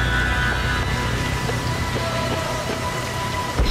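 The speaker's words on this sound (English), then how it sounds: "What are you doing out in the rain?" Steady rain pours down in a night street scene in Jakarta, Indonesia, from the video game Splinter Cell Pandora Tomorrow, a dense, constant hiss of drops close by, with no voices.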